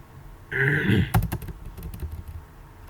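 Keys clacking on a computer keyboard during a basic Word lesson, a quick burst of several close taps after a brief hum, then scattered lighter clicks fading into quiet room noise.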